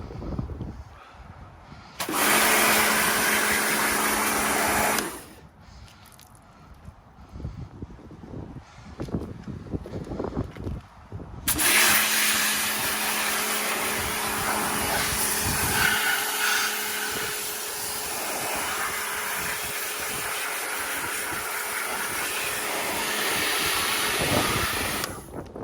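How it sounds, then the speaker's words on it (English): A pressure washer jet-washes the dirty interior of a BMW E82 118D Sport, a loud, steady broadband hiss that runs in long bursts, stops for a few seconds, then resumes and holds for over ten seconds. "I think I'm just going to jet wash it all off."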